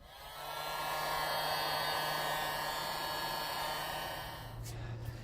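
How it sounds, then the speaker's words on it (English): A heat gun runs with a steady blowing whoosh on faded plastic trim tabs of a 3rd-generation Toyota 4Runner, holding level for several seconds before shifting pitch near the end. "I put a heat gun to that little section right there and brought that back to life."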